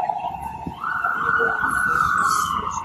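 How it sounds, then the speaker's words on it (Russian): A siren on a New York City street wails loudly and close by, its tone holding steady and then rising to a higher pitch over traffic noise. "Сирены."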